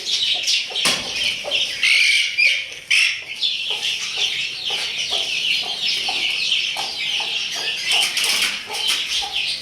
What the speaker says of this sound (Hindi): अपने इन चूज़ों को और मुर्गियों को मैंने इस केज में बंद कर दिया है